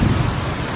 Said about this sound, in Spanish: Está tronando.